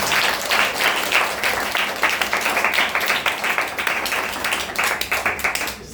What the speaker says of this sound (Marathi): आपण जोरदार टाळ्या वाजवल्या पाहिजे.